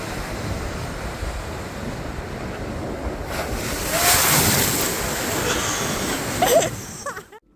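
Ocean waves surge into the champagne pools on Fraser Island, a steady rush of surf and wind that swells into louder crashing washes midway and again near the end, close and unbroken by talk.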